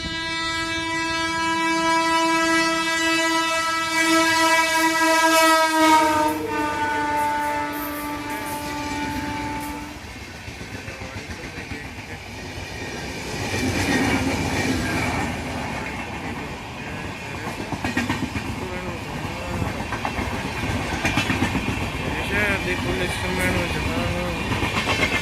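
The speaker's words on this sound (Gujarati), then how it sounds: "ક્રોસ કરી રહી છે વંદે ભારત એક્સપ્રેસ" Two trains, the Vande Bharat Express and the Jabalpur Express, cross at Lusala railway station: a long multi-tone horn blast for about six seconds, then rolling wheels and clattering carriages rumble past nearby for the rest.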